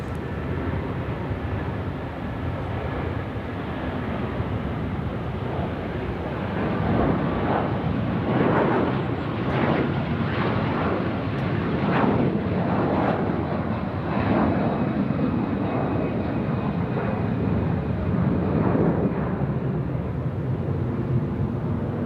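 An AirAsia jet rolls down runway 34 Left at Sydney Airport and rotates for departure to Kuala Lumpur, a loud sustained engine roar with broadband rumble that surges and pulses steadily throughout, with no voices.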